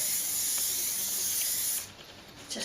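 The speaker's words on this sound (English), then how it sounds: "Give it a quick hairspray, or if you have handy a shop that sells spray glue," Hairspray is misted onto a dried grass floral arrangement in a steady, close hissing burst lasting nearly two seconds. A fainter hiss follows it.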